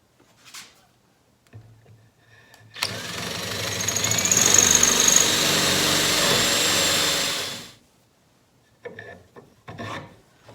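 A power drill bores straight through a block of Douglas fir on a worktable. There is a steady, loud grinding whir lasting about five seconds, with quieter handling noises before and after.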